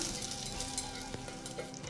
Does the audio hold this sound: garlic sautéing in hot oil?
yes